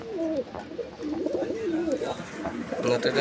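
A male pigeon coos in a short, rolling burst of throaty, warbling notes close by, among a collection of domestic and foreign pigeons, with faint other bird sounds and background noise.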